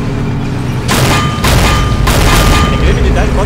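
Artillery fires in the Blitzkrieg Anthology war strategy game: several heavy, loud booms land in quick succession over a constant rumbling background.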